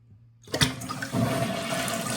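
A toilet flushes with a sudden loud rush of water that settles into a steady wash as the tank refills through its fill valve and overflow tube, heard alone and close.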